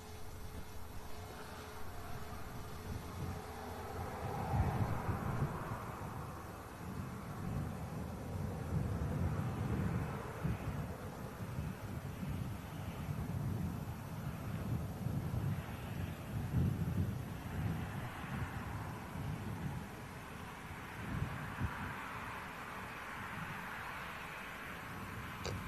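An EasyJet airliner going around at Manchester Airport gives a deep rumbling engine roar that builds and surges, buffeted by gusty wind noise across the microphone.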